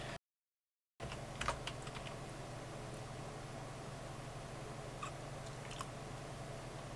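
Soft keystrokes on a computer keyboard as a Wi-Fi password is entered, a faint scattering of light clicks over a steady background hum, with no talk.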